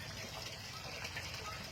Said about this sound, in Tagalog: May umaagos na tubig